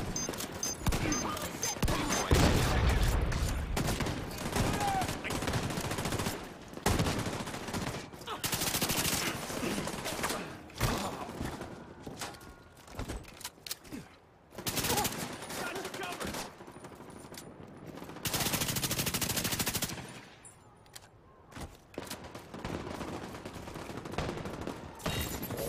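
Sustained machine-gun fire rattles through a firefight in Tom Clancy's The Division 2, loud, long bursts broken by short gaps, with scattered game voice lines.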